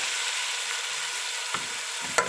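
Half a kilo of cubed potatoes hits hot oil with a steady, bright sizzling hiss, broken by a couple of faint clicks from the pan.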